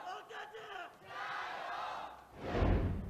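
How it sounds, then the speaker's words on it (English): Home-crowd chanting fills an esports arena during an LGD versus FunPlus Phoenix LPL Spring Split 2018 match, a broad roar that rises, dips and then swells loudest near the end. "a lot of crowd chanting right there for their hometown heroes in LGD"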